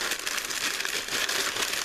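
Plastic packaging around a Brio toy crinkles and rustles steadily up close, with dense crackling that stays fairly even throughout and no voices over it.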